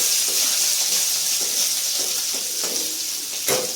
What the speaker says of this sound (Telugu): ఇంకా హై మీదనే పెట్టేసి కొద్దిగా లైట్ బ్రౌన్ కలర్ వచ్చేంత వరకు మనం ఫ్రై చేయాలి